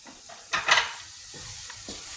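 Onions sweating in a frying pan for a vegan crumble keema give a soft, steady sizzle, with a brief louder burst of stirring and scraping near the middle before the hiss settles again.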